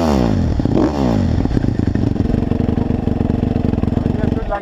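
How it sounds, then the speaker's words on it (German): An enduro motorcycle engine runs loud and close on a trail in Andalusia, a rough rhythmic rumble that revs briefly then settles into a steady fast putter, with speech over the start. "hier lass ruhig den Motor aus"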